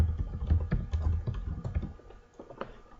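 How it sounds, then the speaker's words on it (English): Soft keystrokes on a computer keyboard, a short burst of typing clicks at close range that thins out toward the end, with no talking. "we hit enter."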